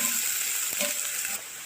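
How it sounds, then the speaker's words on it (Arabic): Onion and garlic sauté in a pan for an eggplant moussaka, giving a steady bright sizzle throughout with a faint scrape of stirring near the middle, no voices. "وهنشوح البصلة والثومة"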